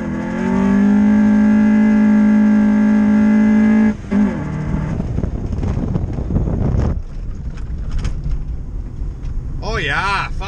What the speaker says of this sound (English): We're gonna do a second gear clutch dump.